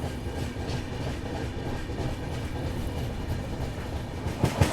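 Superfast long-distance passenger train running between Ratlam and Kota in Rajasthan, a steady loud rumble of wheels and carriage noise heard from onboard, with faint clatter near the end.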